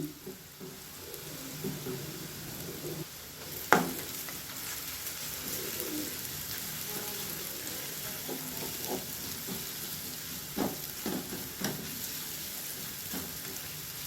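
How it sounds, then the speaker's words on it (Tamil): Chapathi pieces fry crisp in hot oil, giving a low, continuous sizzle. A sharp clatter comes near the start, bird cooing sounds faintly in the background, and scattered pops and taps follow. "இப்போ எண்ணெய் நல்லா சூடாகிடுச்சு. நம்ம இந்த சப்பாத்தியை நல்லா கிறிஸ்பாக ரெடி பண்ணி எடுத்துக்கலாம்."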